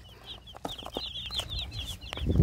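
Chickens clucking close by in a farmyard, a busy run of short chattering clucks with some low thumps and shuffling noise building toward the end.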